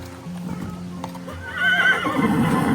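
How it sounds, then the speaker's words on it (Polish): Stallion walking back toward a farmyard past a paddock of cold-blooded draft horses, with a loud whinny rising midway and hoof steps and stable bustle underneath; no talk. "Ogier wraca w kierunku podwórza."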